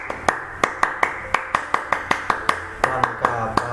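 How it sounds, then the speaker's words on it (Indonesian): Scout-style group clapping, a steady run of about a dozen sharp, evenly spaced claps with a couple of quicker doubled beats near the end, loud and close. "Dua kali tepuk pramuka"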